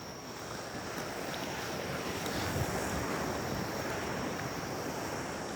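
Heavy surf pounding a beach during Typhoon Maysak, a steady loud roar of breaking waves with wind buffeting the microphone throughout.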